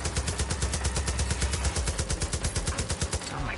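Rapid automatic gunfire from a weapon in Far Cry 5, a fast, even burst of shots lasting several seconds, loud and close with no talking.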